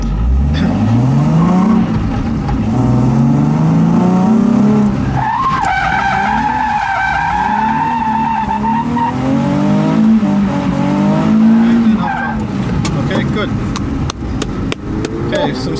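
Drift car at a drift training academy revving and accelerating under throttle through a high corner, engine note rising over several seconds and joined by loud squealing tire skids, close and continuous.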